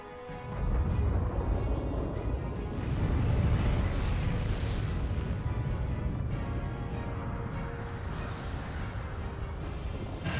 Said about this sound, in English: Oh yeah, because big explosion!